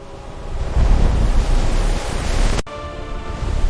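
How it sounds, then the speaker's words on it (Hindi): A strong ocean wave crashing as a story sound effect, a loud broad surging roar that cuts off abruptly and then continues as a lighter rushing wash. "एक जोरदार लहर आई और जहाज उलट गया"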